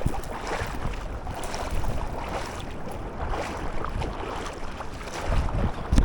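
Gusty wind buffets the microphone on an open reef during wade fishing, a loud, broadband rushing roar that swells and eases with no voices.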